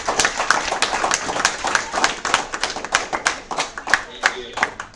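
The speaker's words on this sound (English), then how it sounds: "Let's give him a big round of applause." A classroom audience claps for a guest speaker in brisk, dense applause that lasts several seconds, with voices mixed in.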